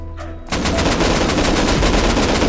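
Gunfire in the video game Rust: a brief quiet lead-in, then a loud, rapid automatic burst of shots that continues steadily to the end, close and dominant.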